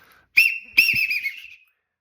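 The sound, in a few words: loud duck call whistle blown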